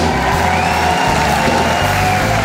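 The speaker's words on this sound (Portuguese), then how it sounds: "Uma salva de palmas." A studio audience at a Catholic television program applauds and cheers to welcome a guest speech therapist, a loud, dense wash of clapping with whoops and shouts that fills the whole stretch without a break.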